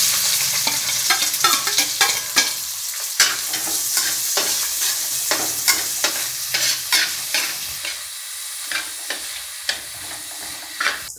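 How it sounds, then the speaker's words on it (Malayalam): Shallots fry in hot oil for a coriander leaf fish curry, crackling and sizzling loudly up close while a spoon scrapes and stirs the pan in repeated sharp strokes. "ഇനി ഇതിലേക്ക് നമ്മൾ അടുത്തത് ചേർക്കാൻ പോകുന്നത് ചെറിയ ഉള്ളിയാണ്"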